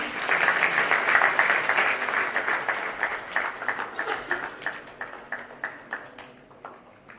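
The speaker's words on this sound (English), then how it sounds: "May we have a huge round of applause, please." A conference audience applauds warmly at an award presentation, the clapping dense at first and then thinning into scattered, rhythmic claps as it fades.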